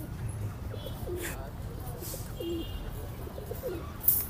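Pigeons coo repeatedly at the Gollamari pigeon market in Khulna, soft low throaty calls recurring close by over a bustling background, with nearby voices and a sharp rustle at the end.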